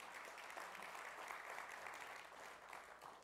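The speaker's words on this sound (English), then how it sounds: "Let's give them a big round of applause." Crowd at a New York conference keynote applauding a supporting sponsor; a continuous, even wash of many hands clapping, moderately loud and sustained, with no speech on top.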